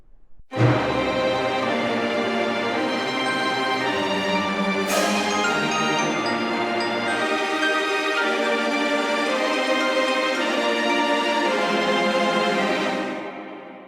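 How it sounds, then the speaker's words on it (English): Rich orchestral sound from East-West Symphonic Orchestra samples with percussion swelling in, sustained and full for several seconds before cutting off abruptly. "Let's have some percussion"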